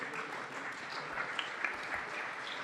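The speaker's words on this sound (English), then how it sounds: "Let's give them a big round of applause." Audience at a city council meeting breaking into applause, a moderate, even patter of many hands clapping with a few sharper claps standing out, heard without any talking.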